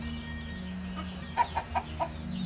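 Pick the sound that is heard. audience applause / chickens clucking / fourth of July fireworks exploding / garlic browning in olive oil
chickens clucking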